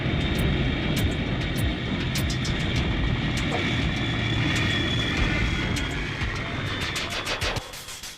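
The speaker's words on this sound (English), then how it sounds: "giant airliners extend their flaps to slow down for landing" A giant airliner passes low overhead with its flaps extended for landing, a loud continuous roar that rumbles steadily and then fades near the end.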